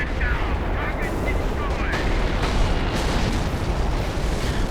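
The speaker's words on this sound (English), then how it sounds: "Oh, here comes another artillery barrage." Artillery barrage in a Company of Heroes battle, a steady rumbling wash of distant explosions and gunfire rolling on without a break, with faint voice fragments underneath.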